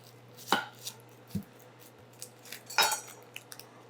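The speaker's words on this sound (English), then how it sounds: "let's cut up an onion" Knife trimming and cutting a large yellow onion on a cutting board, a few sparse knocks and scraping cuts at an irregular pace, close and fairly quiet over a low background hum.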